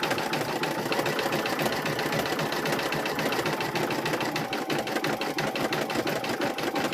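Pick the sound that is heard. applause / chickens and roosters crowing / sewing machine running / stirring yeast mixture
sewing machine running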